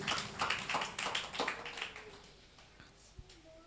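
A church congregation at a New Year praise service in Kurnool claps loudly in a steady rhythmic pattern, about eight strong claps that fade toward the end, with a faint tone underneath.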